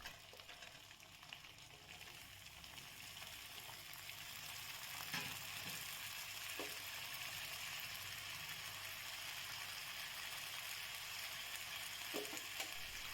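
Ivy gourd and potatoes frying in a pan, a steady soft sizzle running throughout with a few faint scraping clicks, no voices.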